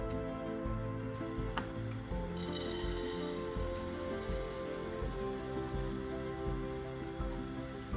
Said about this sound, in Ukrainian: Зернові будемо смажити.